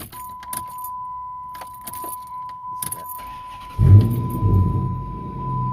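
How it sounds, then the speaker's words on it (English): A 2007 Dodge Challenger starts with a newly programmed key: faint key jangling and a steady electronic tone, then the engine cranks and catches with a rumbling surge and settles into idle near the end. "So now I got the key here, and I'm gonna start the vehicle."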